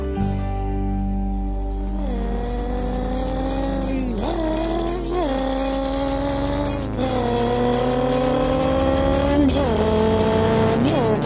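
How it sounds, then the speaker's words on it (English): A race car speeds by in repeated loud passes, its engine pitch rising and then dropping sharply each time, with tire squeals mixed in. The roar stays continuous and close for the whole stretch, with no talking. "A race car was I. I'd step on the gas and get going so fast and watch all the cars go"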